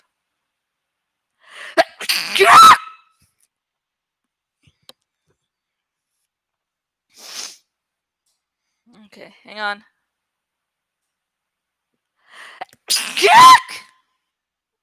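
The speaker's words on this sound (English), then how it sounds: "I'm trying to keep the sneeze away from the microphone end." Two sharp, loud sneezes several seconds apart, close up, with a few quiet spoken words and a small squeaky sound in between.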